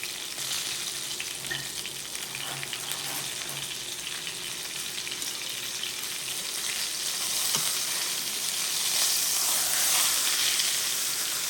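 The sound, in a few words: steak flipped and sizzling in a frying pan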